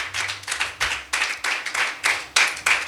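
A church congregation claps in unison, a steady rhythmic series of sharp hand claps, close and fairly loud with no talking.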